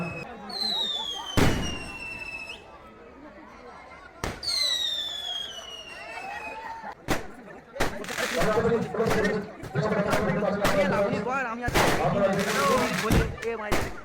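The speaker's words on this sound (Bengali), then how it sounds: "বাজি ফাটা" Firecrackers go off at a neighbourhood Kali Puja celebration. Whistling rockets rise, then a rapid series of loud, crackling bangs follows, with people chattering nearby.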